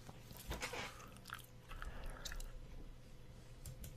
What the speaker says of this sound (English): No, I'm chewing gum.